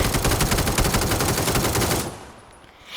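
Rapid automatic gunfire during a video game match, a loud continuous burst of shots lasting about two seconds before stopping abruptly into a quieter lull.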